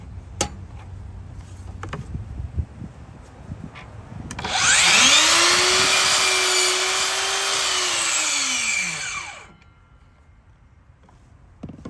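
A DeWalt DCS714B 20V cordless miter saw spins up and cuts through 5.25-inch crown molding, a loud steady whine with a rising start and falling spin-down lasting about five seconds, with quieter shuffling before and after.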